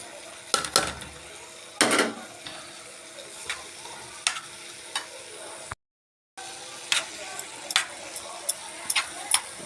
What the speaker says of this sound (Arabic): احط عليها البصل كده